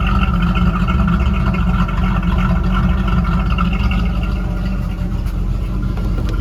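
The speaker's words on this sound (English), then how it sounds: "Let's listen to the exhaust." A 1986 Chevrolet Camaro IROC-Z with a swapped-in ATK 350 V8 idles steadily, its exhaust giving a continuous low rumble, loud and close, with no talk over it.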